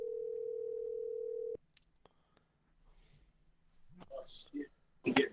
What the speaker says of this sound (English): we got a dial tone